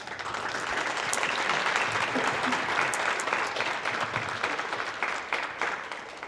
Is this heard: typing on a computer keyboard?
no